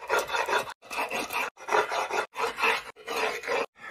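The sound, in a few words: grinding a stone hammer head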